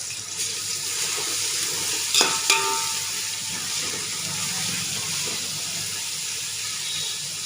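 Onions frying and being stirred in a pan for chicken biryani. The hiss is steady and fairly close, with a few brief scrapes of the utensil near the middle and no voices.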